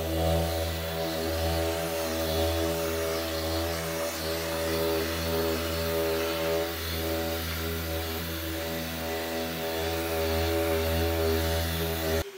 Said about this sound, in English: we are using our 3M extract sander